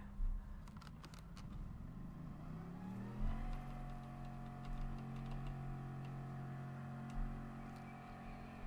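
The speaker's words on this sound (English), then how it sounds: "I'm going to go in the Veyron, why not?" Bugatti Veyron engine in Gran Turismo Sport, a steady sustained drone that rises in pitch around three seconds in, then holds at a constant revving hum with no talk.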